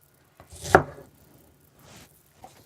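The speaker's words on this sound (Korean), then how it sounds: "그래서 잘 얇게 그냥 딸기는 편을 내주세요" Strawberries being sliced thinly with a knife on a cutting board: one sharp, close cut, then two much fainter taps.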